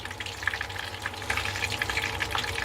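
A little liquid poured over food to glaze it, giving a continuous soft splashing trickle with crackly hiss, steady and close throughout.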